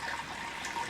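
Water pouring steadily into a Carey electric pressure canner while canning tomatoes, four cups measured in; a continuous close trickling splash with no talk.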